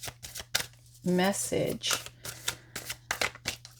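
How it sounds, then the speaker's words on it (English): A deck of tarot cards is shuffled in rapid, crisp riffles close by, with a person talking briefly over the shuffling. "I'll do 3 more shuffles"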